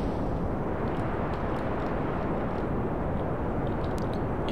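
Rocket engine throttling up in the game Kerbal Space Program, a steady, dense, loud roar that holds level throughout with no talk over it.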